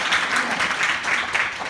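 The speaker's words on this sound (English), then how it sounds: "Clap if you saw the first Magic Mike." A room full of audience members at a comedy show clapping together, a dense, steady burst of applause heard up close and fairly loud, with no speech over it.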